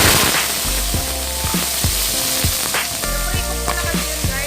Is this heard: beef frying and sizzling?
yes